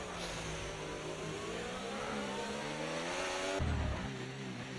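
Race cars lap the China circuit in a racing video game, with a loud, close engine whine climbing steadily in pitch, then a brief low thump and a shift to a new engine note near the end.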